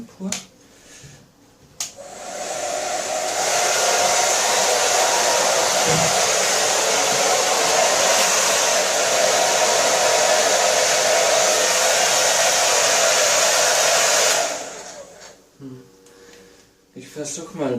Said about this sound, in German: Nun haben wir den Föhn pur.